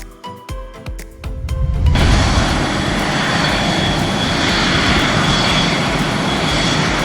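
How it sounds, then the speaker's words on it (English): A fighter jet roars overhead, its loud broadband rush swelling in after about two seconds and holding steady as a close, continuous blast, preceded by a few short thumps. "Fighter jet flying."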